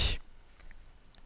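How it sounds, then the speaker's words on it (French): One sharp computer mouse click sounds close at the start of a quiet desk recording and is followed by near silence with a few faint ticks. "Vous allez simplement cliquer sur l'image voulue pour la visualiser ou l'identifier"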